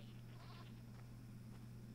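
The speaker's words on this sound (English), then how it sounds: "Come on in here, goats." Goats bleat faintly over a steady low drone in the Red Dead Redemption 2 video game, a short, distant cluster of calls in a quiet outdoor scene.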